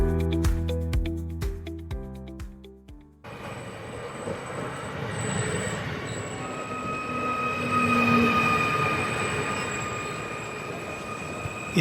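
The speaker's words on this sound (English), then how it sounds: "Why drive when you can let the train take the strain?" A blue passenger train travelling from Riga rumbles along the rails, a steady rolling noise with faint wheel squeal, preceded by a short melodic chime at the start.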